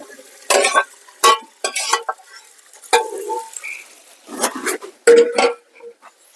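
Vegetables stirred into shurpa cooking outdoors, a run of loud, close scraping and clattering strokes in bursts with short quiet gaps between them.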